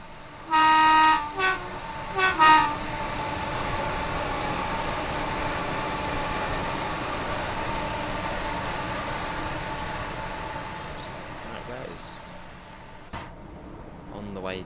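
An upgraded six-coach Class 314 electric train rolls past on the Glasgow Cathcart Circle in Train Sim World 4, two or three sharp horn toots up front giving way to a steady rumble of wheels that fades away.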